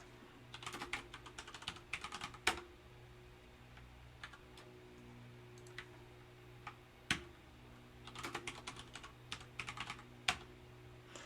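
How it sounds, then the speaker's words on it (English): Quiet, close keyboard typing in irregular bursts of rapid clicks, separated by brief pauses, with a faint steady hum underneath. "I gotta type in the actual window I'm typing in though."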